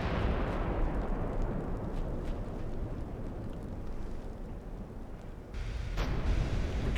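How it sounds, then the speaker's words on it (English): Shells striking and glancing off a warship in the naval battle game Ultimate Admiral Dreadnoughts, heard as a continuous heavy roar of impacts and gunfire, with one sharper hit near the end. "Ricochet, partial, more ricochets, lots of ricochets."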